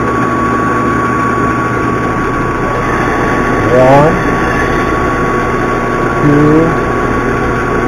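A small engine idles steadily at reduced RPM, near 600, with a constant drone throughout and a person speaking briefly over it.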